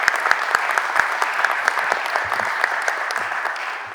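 A committee meeting room applauds a visiting student, a brief round of moderately loud, steady clapping with a few sharp individual claps standing out and soft murmurs underneath.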